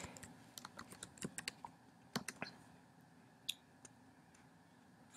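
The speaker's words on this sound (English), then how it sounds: "we're going to type the paraphrase" Typing on a computer keyboard, quiet irregular key clicks in short bursts with brief pauses, close and isolated in a calm room.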